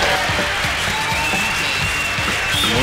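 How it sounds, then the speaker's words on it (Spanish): Steady, loud audience applause fills the hall at a bodybuilding award ceremony during the Gorila Mega Classic 2013 trophy presentation. The clapping is dense and continuous throughout, with faint crowd murmur underneath. "Aplauso, por favor."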